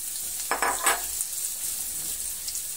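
Diced onions sautéing in a pan for Egyptian omelette, a steady soft sizzle with a few brief stirring scrapes near the start, close and fairly quiet, with no voices.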